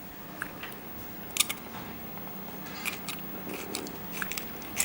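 A knife cuts through a squid body on a board in a kitchen, making soft crisp slicing and tapping sounds in short irregular bursts, quiet and close with no talk.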